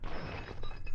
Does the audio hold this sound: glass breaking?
yes